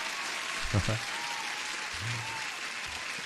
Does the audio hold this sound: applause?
yes